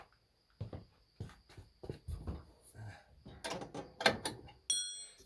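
Metal wrench work on a Westwood T1200 mower deck underside, a 9/16 spanner loosening bolts during a drive belt replacement, heard as scattered close clanks and scrapes with irregular knocks and clicks and no speech.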